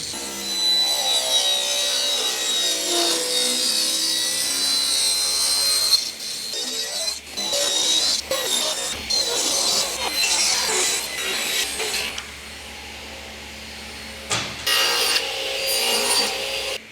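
Walnut boards ripped lengthwise into narrow strips with a saw, a steady close rasping cut with shifting intensity and short pauses between passes, no talking.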